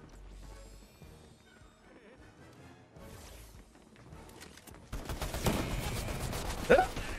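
Video game gunfire bursts into loud, dense rapid shots after a quieter stretch of game sound, with one sharp peak near the end; voices talk over parts of it.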